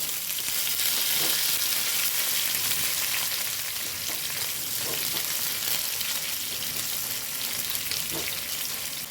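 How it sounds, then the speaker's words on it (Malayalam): Curry leaves drop into hot oil with a loud, dense, continuous sizzle and crackle, heard up close with occasional spatters and light stirring. "ഈ കരുവേപ്പില ഇട്ട് കൊടുക്കേ"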